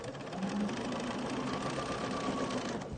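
A Singer 301 sewing machine stitching quilting fabric with the needle-down setting, its steady fast mechanical whir and fine rhythmic clatter running on at an even level and up close.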